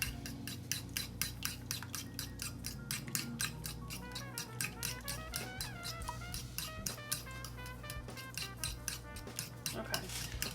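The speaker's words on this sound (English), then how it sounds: "I'm just going to mix all this together." Breakfast casserole ingredients being mixed in a bowl: steady rhythmic scraping and clinking of a utensil, repeated strokes close up with faint kitchen background and a little music-like tone underneath.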